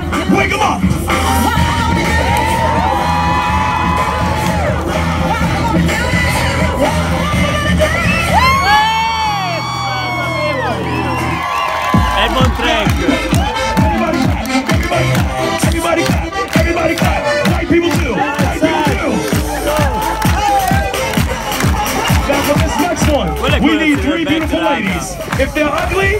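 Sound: crowd yelling and cheering at a street show

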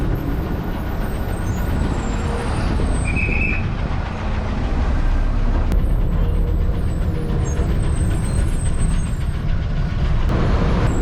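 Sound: city bus stopping at a bus stop, air brakes

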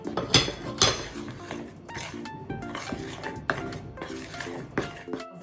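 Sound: stirring batter in a bowl

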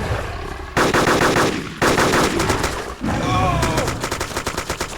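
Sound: gunfire in the video game DayZ

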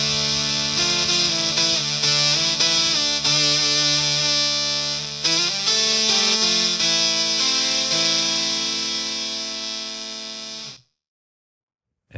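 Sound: Boss SY-300 guitar synthesizer, one oscillator, no effect

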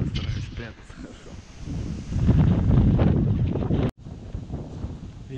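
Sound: strong gusty wind on a lake during duck hunting

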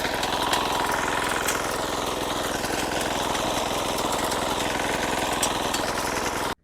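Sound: Sharp Garuda mini weeder engine running

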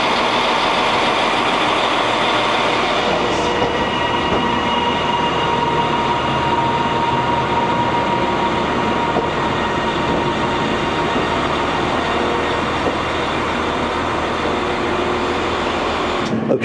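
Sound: TransPennine Express train at Manchester Oxford Road station

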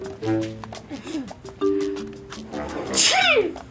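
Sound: woman sneezing

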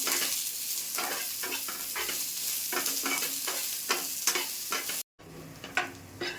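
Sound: onions frying in oil

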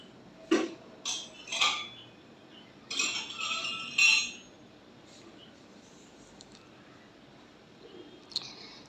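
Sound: stirring soybean curry in a pan

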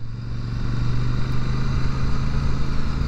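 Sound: Royal Enfield Super Meteor 650 motorcycle exhaust while riding

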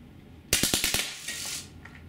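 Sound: Drozd Blackbird BB machine gun on HPA firing 6-round bursts

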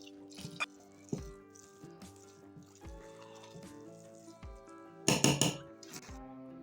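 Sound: stirring masala moong dal khichdi in a pot

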